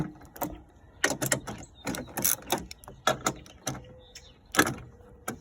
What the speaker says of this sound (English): These are 1/2 inch bolts, the 4 of them, so we're just slacking them off.